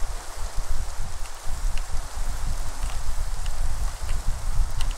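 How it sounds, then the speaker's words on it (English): Steady rain falls in Minecraft, a continuous soft hiss and patter with faint scattered drops. It goes on for several seconds with no voices. "And it's raining, it's raining."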